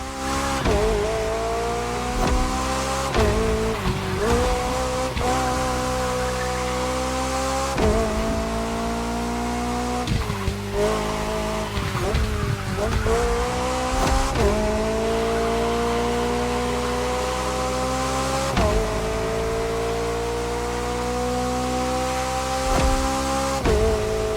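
An open-top luxury car driven in The Crew Motorfest, its engine holding a steady harmonic drone with repeated gear changes and brief tire squeals, loud and continuous throughout with no talk.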